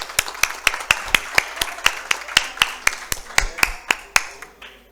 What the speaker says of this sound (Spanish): Aplaudo a todos mis compañeros.